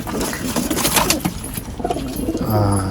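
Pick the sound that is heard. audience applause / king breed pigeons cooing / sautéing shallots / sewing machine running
king breed pigeons cooing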